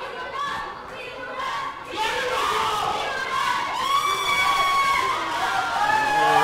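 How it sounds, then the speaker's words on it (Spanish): Crowd at a wrestling show shouting and cheering in loud sustained waves, with shrill voices and chants rising over the din. "Vemos a la gente con el apoyo para el joven que está debutando."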